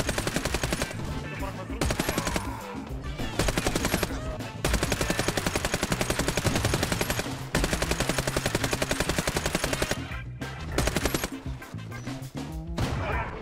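Machine gun fire in the video game Warface, long sustained rapid bursts with brief pauses between them, loud and continuous over about thirteen seconds.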